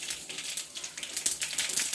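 Mustard seeds popping in hot oil in a pan while tempering for tomato thokku, a dense, steady crackle of tiny bursts throughout, no talk.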